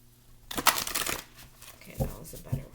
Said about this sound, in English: Okay, that was a better shuffle right there.